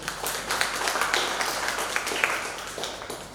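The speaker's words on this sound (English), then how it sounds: "Please, a huge round of applause for him." An audience applauds at the valedictory session of an electric-mobility faculty development program, a fairly soft, continuous wash of many hands clapping with scattered sharper claps.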